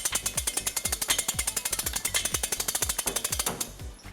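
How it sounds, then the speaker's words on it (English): A hitch jack raises a trailer hitch into place under a 2001 Ford Ranger, giving off rapid, steady ratcheting clicks close by, evenly paced for several seconds before slowing at the end. "We're going to be using our U-Haul exclusive hitch jack."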